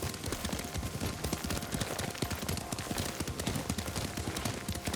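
Horse hooves pound in a rapid, steady galloping rhythm while riding in the PS5 game Ghost of Tsushima. The dense clatter continues throughout the clip.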